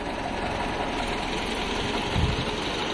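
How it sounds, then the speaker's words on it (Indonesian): A 1953 Willys M38A1 US Army jeep engine idles smoothly, a steady low rumble with a faint regular ticking and a brief deeper surge near the end, heard alone without talk. "Jadi suara mesinnya sangat halus sekali."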